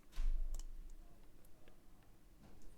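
Faint, close mouse clicks sound as a Create Folder button is confirmed, a few light isolated ticks spread out over a low background hum, with no voices.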